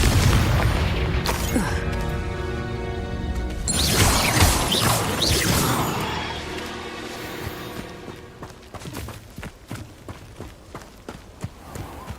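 Confringo blasting spells explode in Hogwarts Legacy, a dense, loud run of booming, crashing blasts over several seconds that thins into scattered clattering debris and rumble.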